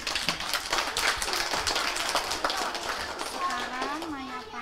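Children clap at a kindergarten event, a scattered, uneven patter of small hands, fairly close, with a voice speaking over the end.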